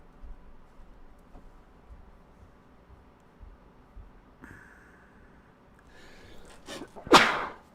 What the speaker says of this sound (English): Oh, a COVID sneeze.